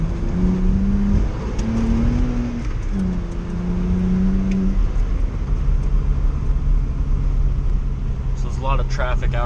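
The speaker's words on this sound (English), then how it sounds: "A lot of traffic out right now" Road traffic rolls past a stopped BMW E90 328i, a continuous low rumble with engines rising and fading as cars go by, and a voice speaking briefly near the end.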